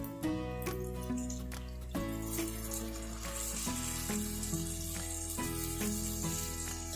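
Tamarind water hits a hot pan of fried and ground-spice fish curry, giving a loud, bubbling sizzle with clinks and scrapes of stirring, close by and with no speech.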